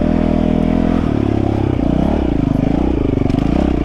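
A dirt bike ridden in first gear by a street rider on his first dirt outing, its engine loud and near with a steady rattling drone that rises and dips as the throttle changes, and no voices.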